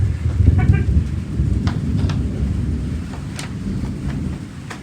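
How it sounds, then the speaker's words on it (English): Heavy thunder rumbles low and steady through a Florida storm, a broad continuous roar with faint rain and wind hiss above it, loud and close throughout. "That's the mighty big thunder."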